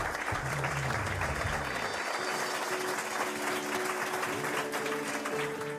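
Steady applause fills a restaurant dining room as guests clap for the kitchen staff, an even wash of hands that continues unbroken throughout, with some voices faintly underneath.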